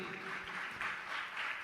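Audience applause at a religious question-and-answer gathering, a dense, continuous wash of clapping that stays even and fairly faint throughout the short stretch.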